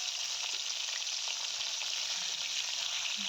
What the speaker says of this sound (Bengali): এই যে দেখো, মাছগুলোকে ভেজে নিচ্ছি